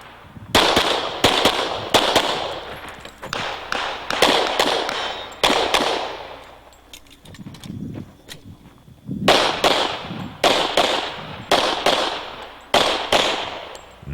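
Pistol shots ring out in an IDPA shooting stage, sharp loud reports in quick bursts of two or three, separated by short pauses as the shooter moves between targets, with faint shuffling between strings.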